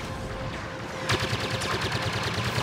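Gunfire in the Star Wars Battlefront video game: a brief quiet lull, then a sudden run of rapid, evenly spaced blaster-like shots that continues steadily at moderate volume, with no voices over it.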